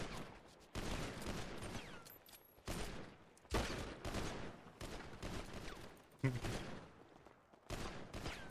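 Video game gunfire in FiveM, a multiplayer GTA roleplay mod, comes as repeated bursts of rapid shots in separate volleys with short pauses between them, mixed with faint chatter.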